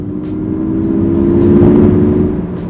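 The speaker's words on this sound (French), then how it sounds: "ils vont amplifier le son du moteur électrique dans les haut-parleurs" A Mazda MX-30 electric car accelerates while its artificial motor sound plays through the cabin speakers, a loud steady synthetic hum that swells and then eases over a few seconds.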